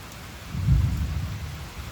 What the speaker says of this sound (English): Let's listen to the rain.